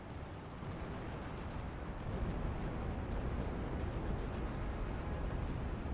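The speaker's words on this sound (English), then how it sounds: "Damn, that was a nasty, nasty bomb and run." Bombing run explosions in Steel Division 2, a World War II strategy game, rumbling as a dense, continuous wall of blasts that swells louder partway through and stays heavy to the end.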